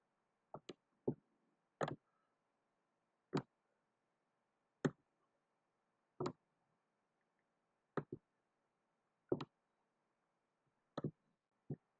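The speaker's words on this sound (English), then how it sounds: "if we press the up and down arrow keys" Arrow keys on a computer keyboard pressed one at a time, giving sharp isolated clicks, sometimes in quick pairs, spaced a second or two apart in a quiet room.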